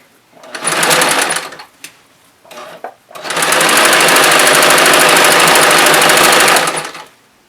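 A sewing machine runs loud and close while stitching stretched elastic onto the waistband of loungewear pants: a short burst, a pause with a few brief stitches, then a long steady whirring run that stops abruptly.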